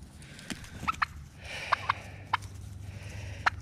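Free-range Sweetgrass turkeys gobble in short, sharp bursts, four or five calls spread over a few seconds, close by and over a low background rumble.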